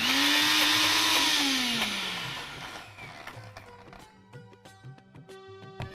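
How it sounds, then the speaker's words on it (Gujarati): An electric mixer grinder whirs loudly as it grinds ingredients and a little water into a paste in a home kitchen, its motor pitch sliding down before it spins to a stop around halfway, leaving faint clinks and rattles. "એટલે આપણે સરસ પીસી લેવાનું છે. એકદમ પેસ્ટ કરવાની છે આની."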